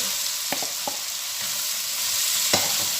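Bitter gourd goes into a pan of soft-cooked tomatoes and fries with a steady, even sizzle, punctuated by a few light knocks of a spoon against the pan.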